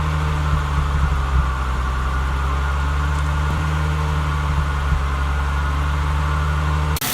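A steady low car engine idle with a deep, even rumble and faint irregular exhaust burbling pulses after a Seafoam treatment, with a check engine light and limp mode, close and continuous, ending abruptly.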